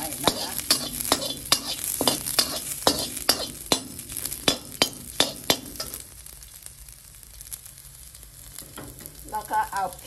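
Garlic stir-fried in oil in a pan, with a spatula scraping in a quick, regular rhythm for several seconds, then a softer sizzle; a voice briefly emerges at the end.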